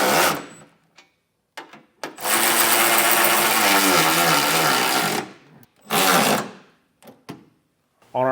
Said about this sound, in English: Now we'll come back through and snug down all of our hardware.